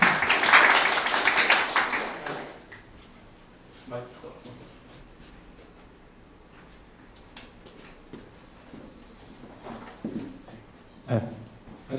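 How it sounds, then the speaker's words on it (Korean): An audience at a Korea University startup program event greets the center director with a short burst of applause that fades after a couple of seconds, followed by someone talking in a quiet room with small scattered knocks. "박수로 마주해 주시길 바랍니다"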